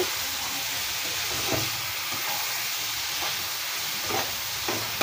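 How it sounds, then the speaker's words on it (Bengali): Fish pieces rubbed with turmeric and salt sizzle loudly in hot oil with frying spices, a constant close crackling hiss, with soft scrapes of stirring now and then. "এখন আমি আগে থেকে হলুদ লবণ মাখিয়ে রাখা মাছগুলো মশলার ভিতর দিয়ে দিলাম এবং ভালোভাবে নেড়ে চেড়ে মশলার সাথে মিশিয়ে নেব"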